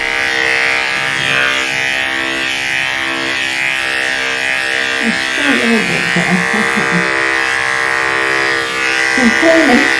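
An electric dog clipper buzzes steadily and close up while grooming a doodle's coat, a constant drone with a person talking over it in the second half.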